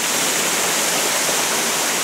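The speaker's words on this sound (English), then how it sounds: "the waterfall's right around the corner" A waterfall among rocks on a walk in Japan gives a loud, dense, unbroken hiss and roar that stays steady throughout, with no voices over it.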